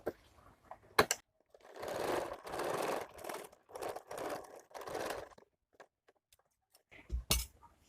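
A sewing machine stitches along a blouse shoulder for a bra-cut blouse, running in several short close bursts separated by brief pauses, with a few light clicks and handling noises before and after.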